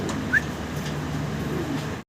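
Pigeons of a fancy breed kept for sale cooing nearby in low, soft, continuous murmurs, with one brief higher chirp early on.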